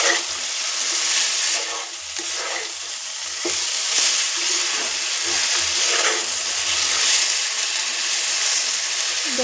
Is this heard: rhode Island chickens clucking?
no